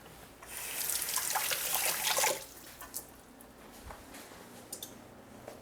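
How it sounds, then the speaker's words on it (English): Water gushes from a kitchen tap for about two seconds during hand washing, a close, bright splashing rush that stops abruptly, followed by a few faint drips and small clatters. "Wash my hands, be right back."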